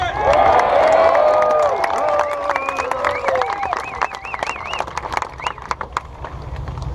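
Steelworkers' union rally crowd outdoors at Burns Harbor, Indiana, breaking into cheers, whoops and clapping for a named guest, loud at first and then thinning into scattered claps and shouts.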